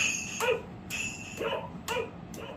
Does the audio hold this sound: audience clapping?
no